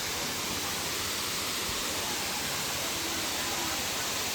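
Waterfall beside a road at Puerto Galera in the Philippines, water dropping from a great height, heard as a steady, loud, broadband roar that holds unbroken throughout with no distinct pauses.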